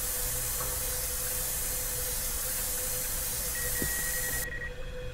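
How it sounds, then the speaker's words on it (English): A spray paint can hisses in a steady, continuous stream inside the horror game Erie, loud and unbroken for several seconds before cutting off near the end. "spray paint over it."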